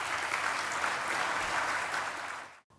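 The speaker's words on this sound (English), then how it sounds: "Give them another round of applause because they're the model." Audience applause at a public address by the New York City Comptroller, a steady dense clapping wash holding at even loudness, then dropping away abruptly near the end.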